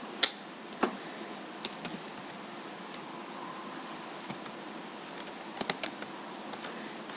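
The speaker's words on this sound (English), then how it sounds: "So we just start typing it in." Someone types on a computer keyboard while entering accounting figures, with sparse, irregular key clicks that sometimes come in short bursts, close but quiet over a faint background hiss.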